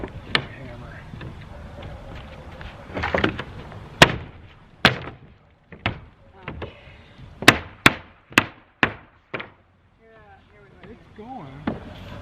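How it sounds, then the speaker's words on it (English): A hammer taps during repair of a 1925 house's library roof, landing about a dozen sharp, irregular strikes with quiet gaps between them, and a few voices talk briefly around the blows. "Hammer."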